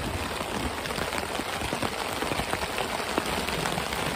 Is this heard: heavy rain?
yes